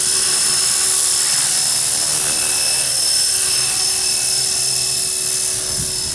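A radio-controlled helicopter hovers in training outdoors in wind, its rotor blades spinning in a steady high-pitched whine with a constant tonal drone, loud and close throughout with no talk.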